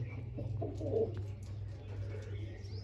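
Pigeons in a loft give low, soft cooing murmurs, fairly close but quiet, over a steady low mechanical hum throughout.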